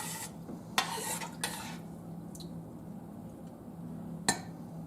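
A mixture stirred in a pot over high heat, with a few sharp clinks and scrapes of a utensil against the pot over a low hum, and quiet stretches between strokes.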